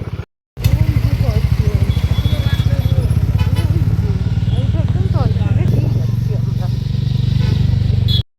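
A motorcycle riding a mountain road near Kurseong: a loud, close engine throbbing steadily from just after a silent start to the end, with a voice talking over it.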